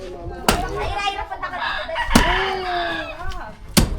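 A chicken clucks and calls near a house, several short throaty cries and a drawn-out note mixed with sharp knocks and bangs, close and fairly loud.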